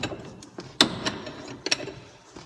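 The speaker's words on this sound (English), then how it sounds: "I'm just using a combination wrench to" A combination wrench works a ball joint press during a Jeep ball joint replacement, giving quick ratcheting clicks and metallic ticks close by in a cramped space, with one louder snap among them.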